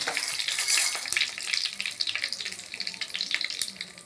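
Mustard seeds, dried chilies and curry leaves crackle and spit in hot oil, a loud close sizzle with rapid popping bursts throughout.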